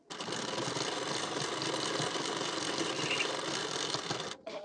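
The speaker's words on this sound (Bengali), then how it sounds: "নিয়ে এর কানা বরাবর করে একটি সেলাই দিয়ে নেব" A sewing machine stitches along the folded edge of a blouse strip, running in one steady, continuous mechanical whir, close and fairly loud, before stopping abruptly near the end.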